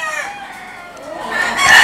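A fighting rooster from the Isla Verde game-cock scene crows once, a drawn-out call that swells and grows louder toward the end, heard alone and fairly close.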